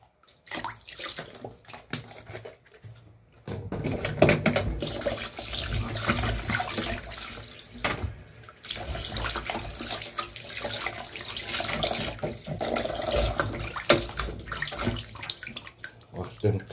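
Water splashes and runs steadily as cow foot is washed in a basin of water with vinegar, a continuous sloshing wash that starts after a quiet opening.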